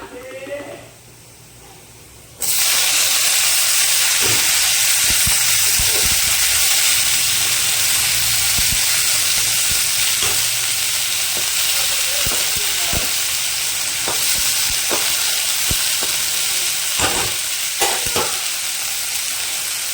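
Washed greens hit a hot pan of fried onions, setting off a sudden loud, steady sizzle and hiss that lasts throughout, with occasional clinks and scrapes of stirring; a voice speaks briefly just before.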